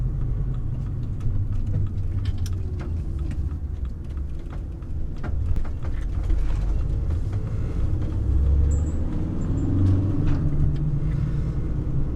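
Driving around the Gold Coast in a van gives a low, steady road rumble with engine hum and occasional faint clicks and knocks inside the cabin, continuous and fairly close, without talk.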